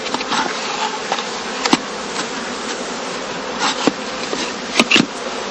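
Honey bees in a heather skep apiary, in boxes filled during the cast swarming period, give a close, steady buzzing hum with occasional louder passes of single bees nearby.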